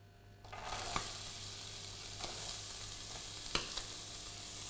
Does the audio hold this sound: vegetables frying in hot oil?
yes